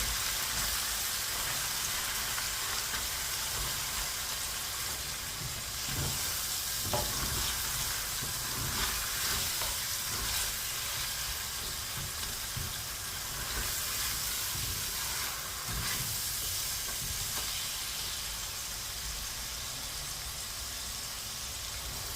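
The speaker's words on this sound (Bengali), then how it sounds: "এখন ভালো করে কষে নিচ্ছি পেঁয়াজগুলোকে।" Onions fry in a pan for a chicken roast, giving a steady, close hissing sizzle that runs unbroken, with occasional faint stirring scrapes underneath.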